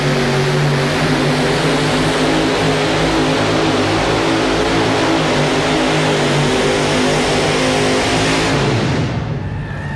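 A modified pulling tractor powered by three naturally aspirated Ford engines at a 1999 NFMS tractor pull in Louisville, Kentucky, roaring loud and steady at full power, easing off only in the final second.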